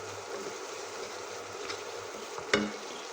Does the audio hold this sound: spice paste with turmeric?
yes